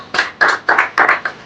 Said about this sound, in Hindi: वो जोरदार के लिए तालियां हो जाए